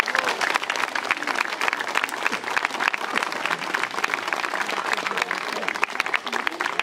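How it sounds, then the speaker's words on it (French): Sustained applause from a crowd, dense steady clapping filling the whole stretch at an even level. "Donc on peut les applaudir."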